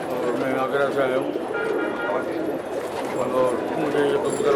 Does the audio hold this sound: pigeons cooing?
yes